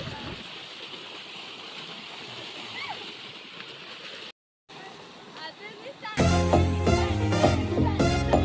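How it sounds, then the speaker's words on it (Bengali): Water sloshes and splashes as people play in it on a hot day, a steady watery churn that drops out briefly before loud music takes over the end. "সবাইকে দেখে জলে ঝাপাঝাপি করতে আমিও চলে গেলাম।"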